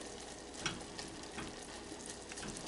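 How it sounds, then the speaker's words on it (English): Butterscotch fudge stirred in a pot, giving a steady soft bubbling sizzle with faint scraping, one brief louder knock early on, no voices. "Just keep stirring."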